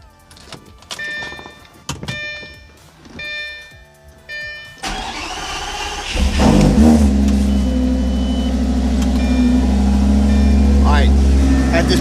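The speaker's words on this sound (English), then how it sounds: "we're gonna go ahead and move forward with starting the engine" A Lamborghini Gallardo is started after a few clicks and beeps from the cockpit; the engine cranks, catches with a loud rising roar, then settles into a steady deep idle close by.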